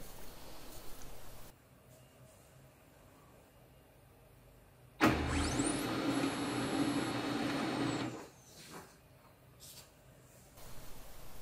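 A Xerox B210 laser printer wakes from standby with a sudden loud mechanical whir and hum that runs for about three seconds before stopping, followed by faint quieter clicks in an otherwise quiet room.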